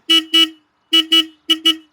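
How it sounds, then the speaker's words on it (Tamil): A 200cc cruiser motorcycle's horn beeps in three quick pairs of short honks, loud and close, with brief silences between each pair. "ஆனால் இந்த பைக்கோட ஹார்ன் வந்து எனக்கு டிஃப்ரெண்ட்டாக இருந்துச்சு"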